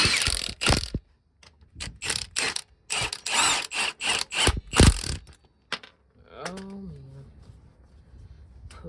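A ratchet wrench with a socket works on the parking brake of a Freightliner MT55 truck: a burst of rapid, loud clicking bursts, then pauses, and a brief squeal of metal near the end.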